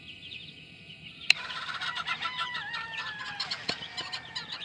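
Game bird chicks in an outdoor brooder give off a busy chorus of high, thin peeping and chirping calls, with one sharp knock partway through and a faint background hiss.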